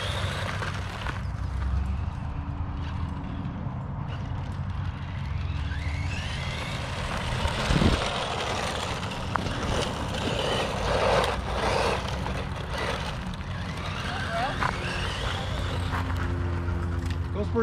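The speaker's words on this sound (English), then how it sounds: "Look at how it goes. Stock motor goes pretty quick." A Kyosho Sand Scorcher RC car on its stock motor runs across a sandy arena, a faint whirring buzz under wind noise and people talking, rising and fading as it passes.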